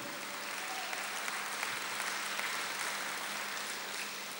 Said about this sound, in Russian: Ну дай Богу большие-большие аплодисменты.